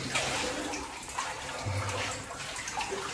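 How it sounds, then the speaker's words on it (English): Water rushing steadily through an old mine, a continuous close wash of flowing noise that stays fairly even throughout, with no talk over it. "There's a lot of water coming through here."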